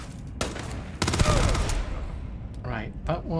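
Shots from a gun in Starfield, with a loud cluster of rapid gunfire followed by scattered fainter impacts and ricochet-like pings in an enclosed space.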